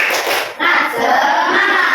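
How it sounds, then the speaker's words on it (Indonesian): A fourth-grade class doing a rhythmic spirit clap, a dense patter of many hands under children's voices, with a brief dip before the clapping resumes. "SPG-nya tepuk aja ya, tepuk semangat ya."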